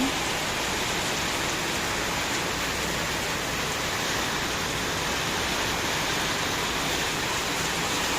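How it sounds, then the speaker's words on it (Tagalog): Heavy rain pours down in a dense, unbroken hiss, steady and loud throughout with no other sounds standing out. "lumalakas yung ulan"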